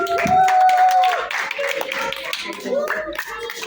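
School assembly audience cheering and clapping for a student act, with loud shouts and whoops over scattered hand claps and voices calling out.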